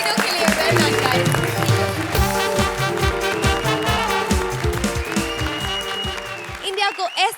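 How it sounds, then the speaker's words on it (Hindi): A studio audience at a Hindi TV comedy show breaks into loud, sustained applause that runs for several seconds, mixed with music and voices. "जोरदार तालियां उठाएं इन तीनों के लिए।"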